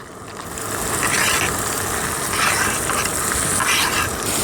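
Chopped onions go into hot oil with garlic that has already browned, for a squid egg masala, and they sizzle and crackle steadily up close, with a dense hiss that swells slightly as they are stirred.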